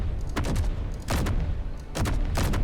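Repeated bursts of turret gunfire from the Space Engineers video game, loud and close, firing in three clusters of rapid shots with no talking.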